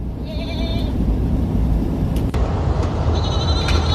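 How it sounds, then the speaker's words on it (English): A goat bleats twice outdoors, briefly and at mid-distance, over a heavy continuous rumble of wind or traffic noise. "And there's the freaking goat."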